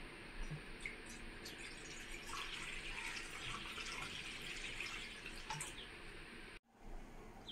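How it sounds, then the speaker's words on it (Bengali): Water poured into a wok over a lit stove, a continuous splashing, gurgling stream at close range that runs steadily for several seconds before cutting off abruptly. "এবারে কিন্তু কড়ার মধ্যে আমি জল দিয়ে দেবো"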